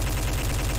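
Rapid automatic gunfire rattles continuously in the video game Garry's Mod, a dense, loud burst of shots with no pauses and no voices over it.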